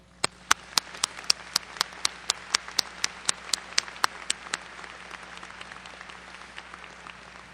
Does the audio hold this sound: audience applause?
yes